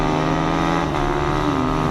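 Drag racing engines in the motorcycle, ATV and snowmobile class final roar loud and sustained, one steady droning engine note holding with a slight pitch shift partway through.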